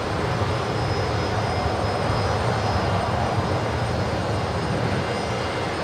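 A fixed-wing aircraft arriving to land on runway 19 left at Brisbane Airport in low visibility and bad weather, its engine producing a steady broadband roar that stays loud and even throughout, with no voices.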